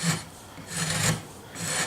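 A cheap chisel paring pine wood, giving three slow rasping strokes a little over half a second apart, close and fairly quiet.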